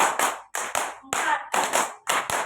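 A primary school class claps in unison in a classroom, five sharp group claps in an even beat with short gaps between them, close and clear, with no talking over them.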